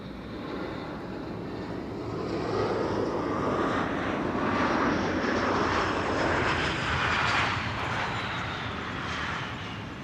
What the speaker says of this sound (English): Embraer 175 arriving from Bologna.